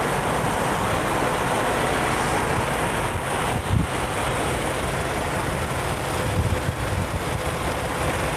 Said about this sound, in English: this doesn't make for a good drive day when there's this much wind